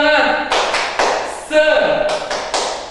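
A class in an Indonesian primary-school science lesson claps out the 'tepuk semangat' ice-breaker: bursts of sharp group claps in a quick rhythmic pattern, mixed with chanting voices.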